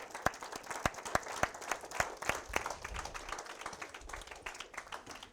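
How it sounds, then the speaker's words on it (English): Inductees at a National Technical Honor Society induction ceremony are applauded by the audience. A few sharp, loud claps stand out near the microphone over a fuller spread of lighter clapping, which thins gradually toward the end. "Let's give them a round of applause."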